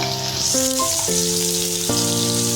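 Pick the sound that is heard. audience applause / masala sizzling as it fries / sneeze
masala sizzling as it fries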